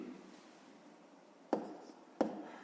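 A pen scratches out numbers by hand during long division for a fifth-grade math exercise, with two short, sharp scribbling strokes over quiet room tone.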